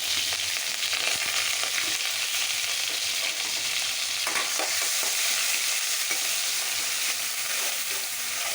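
Onion paste frying in a pan makes a steady close hiss and sizzle, with scraping stir strokes and small crackles throughout, no speech.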